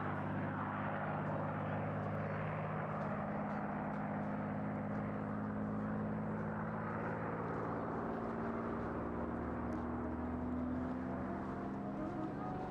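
A P-51D Mustang propeller fighter flies at an airshow, its piston engine giving a steady droning hum with a low tonal buzz, moderately distant and continuous throughout.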